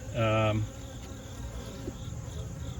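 Honey bees buzz around an open hive, a loud close buzz for the first half-second, then a steady, softer hum of many bees for the remainder.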